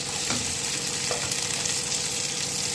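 Chicken curry frying with a paste of ginger, garlic, green chilli, coriander and cumin, giving a loud, unbroken close sizzle with faint stirring scrapes underneath.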